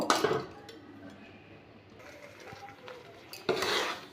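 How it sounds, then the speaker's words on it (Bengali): A spoon stirs and scrapes a pan as jaggery melts into palm fruit pulp, with clinking bursts at the start and end and quieter scraping in between. "যতক্ষণ না পর্যন্ত গুড়টা গলে যাচ্ছে আর গুড়টা তালের সাথে পুরো মিশে একটা নিয়ে ভাব আসবে ততক্ষণ আমি এটা নাড়িয়ে যাব"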